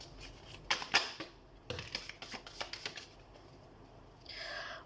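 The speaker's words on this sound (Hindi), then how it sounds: "तो सबसे पहले हम कार्ड शफल कर लेते हैं।" A deck of tarot cards being shuffled by hand close up, quick bursts of riffling and snapping card edges in several clusters, followed by a softer sliding rustle.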